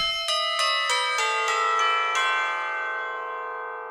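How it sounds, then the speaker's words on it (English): Tubular bells voice on a Yamaha Genos 2 keyboard: eight bright, evenly spaced metallic strikes rising in a quick run, each ringing on, then a long shimmering sustain that slowly fades, loud and alone. "Tubular bells have been updated."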